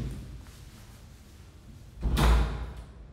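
A single door sound comes near the end, a brief thud and scrape that stands out clearly against a quiet, low room hum.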